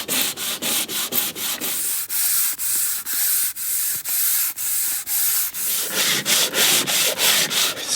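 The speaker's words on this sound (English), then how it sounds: "Sanding is quite tedious, but it's also a little bit addictive" Hand sanding of a boat hull being prepared for paint: rhythmic back-and-forth abrasive rasping strokes, about two per second, loud and close with no voices.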